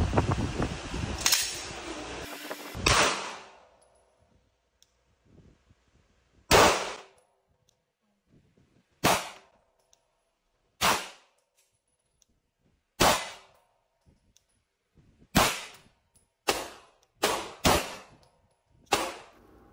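Gunshots ring out on a shooting range, roughly a dozen loud, sharp reports spaced unevenly, some single and some in quick pairs, each followed by a short fading tail.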